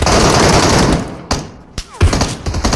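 Rapid automatic gunfire crackles in the Metro Royale shooter game, loud and close, with dense bursts broken by brief gaps and a few sharp single shots.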